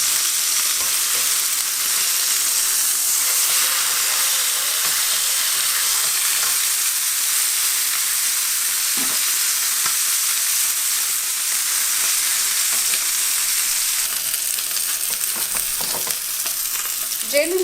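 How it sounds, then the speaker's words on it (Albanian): Rooster pieces fry in a pan, giving a continuous loud sizzle with a steady hiss throughout and occasional soft stirring scrapes. "Gjelin e përgoni në çdo anë."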